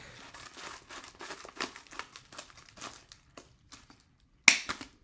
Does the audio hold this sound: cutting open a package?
yes